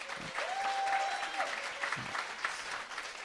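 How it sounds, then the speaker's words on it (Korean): A crowd applauds steadily for a few seconds, a dense wash of clapping hands filling the room. "일단 박수부터 좀 치고 시작하겠습니다"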